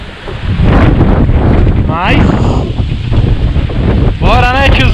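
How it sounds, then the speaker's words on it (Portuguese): Strong wind gusting with rain at an outdoor fishing pond in Brazil, roaring and buffeting the microphone continuously, with someone speaking briefly over the noise. "Olha isso, mano, a chuva de vento"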